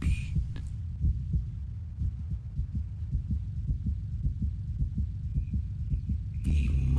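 A heartbeat pulses in The Dark Eye video game, a steady series of low, thudding double beats repeating at a regular rhythm, close and prominent, with a short burst of brighter sound at the start and end.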